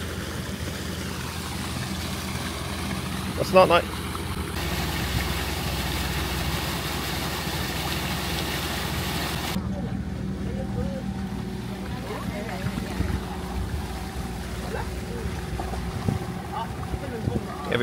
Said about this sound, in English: we are motoring, moving along at 6 knots under one engine